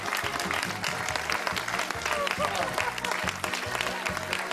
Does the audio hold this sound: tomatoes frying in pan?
no